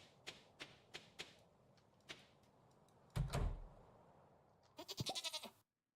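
A goat is milked in Stardew Valley: a few soft, evenly spaced game clicks lead to a thump, then a short, bright, wavering goat bleat near the end, all fairly quiet.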